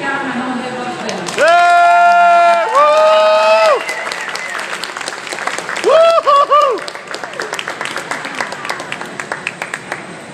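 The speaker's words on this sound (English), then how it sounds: "give a big, big applause to Bertrand, Piccard and André Borschberg" Loud applause and some cheering from an audience in Dallas welcoming the two Solar Impulse solar-plane pilots, mixed with sustained musical tones that cut in twice before the clapping trails off into scattered claps.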